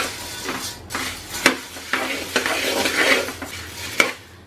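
Cleaned puffed rice is stirred continuously in a pan over a low to medium flame, a busy scraping rustle with soft sizzle and a few sharp clinks of a spoon against the pan.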